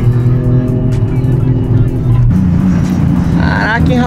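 A Nissan Silvia S15 sports car passes on a street in Nagoya at night. Its engine rumbles loud and steady, then the tone shifts as it goes by, with other traffic around it.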